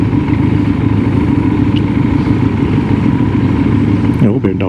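Motorcycle engines rumble steadily nearby in a crowd of Harleys and BMWs at the ABR Festival, with a voice speaking over the noise.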